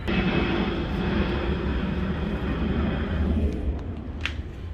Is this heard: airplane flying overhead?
yes